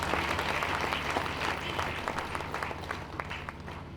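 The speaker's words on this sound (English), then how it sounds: "Please, can you clap hands for" A lecture audience at a university inaugural lecture claps together, a dense, moderately quiet wash of applause lasting a few seconds with no speech over it.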